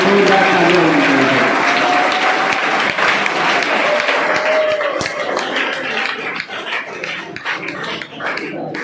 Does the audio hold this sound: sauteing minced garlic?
no